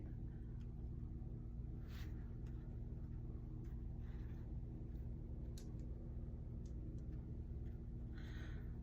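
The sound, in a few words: road traffic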